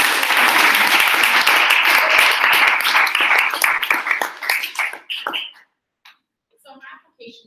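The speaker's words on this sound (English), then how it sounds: "let's give a nice round of applause for Smart" An audience at capstone presentations applauds with a loud, dense burst of many hands clapping that thins into a few scattered claps and fades to near silence, with a few faint taps at the end.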